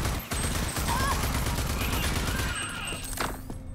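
Gunfire in the video game Rage 2, a dense burst of rapid shots that fills most of the moment before tapering off, loud and close.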